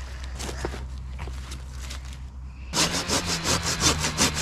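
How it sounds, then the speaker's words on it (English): A hand saw rasps through dead wood in quick, rhythmic back-and-forth strokes that grow louder and sharper partway through, over a low steady hum. "This will probably break off because it's dead wood, but if you keep sawing a little bit more"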